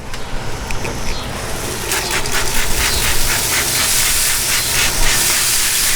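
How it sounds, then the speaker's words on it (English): Beef short ribs on a grill are spritzed from a spray bottle, a run of quick, close hissing sprays in a steady rhythm over a background of grill noise. "let me spritz this side here"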